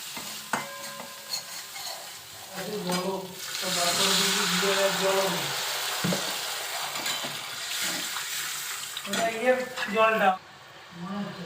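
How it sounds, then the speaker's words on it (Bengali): Prawn curry masala being sautéed in a pan, a continuous sizzle and stirring scrape building in the middle, with a voice speaking intermittently over the cooking and some clatter near the end. "এখানে দেখো চিংড়ি মাছের মশলাটা কষা হচ্ছে হয়ে এসেছে"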